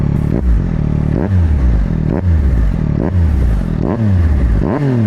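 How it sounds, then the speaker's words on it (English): A 2025 Yamaha R9 fitted with a Yoshimura full system exhaust and flashed ECU is blipped repeatedly, each sharp rev rising then dropping back, about five quick bursts close and loud. "Let me give you guys some quick revs."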